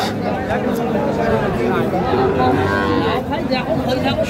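A Sahiwal bull calf, four to five months old, lets out a drawn low moo amid a busy cattle market, with a crowd's chatter and nearby talk running over it throughout.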